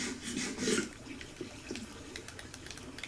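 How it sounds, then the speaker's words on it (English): In Minecraft, water rushes and splashes softly in a continuous stream, faint and steady, with a louder gush at the start. "The noise of the rushing water is very loud."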